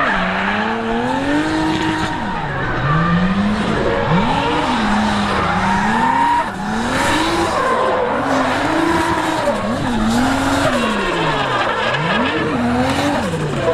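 Nissan 350Z swapped with a Camaro LS3 V8 drifting on a track, its engine rising and falling in repeated revving surges over sustained tire squeal, loud and close throughout.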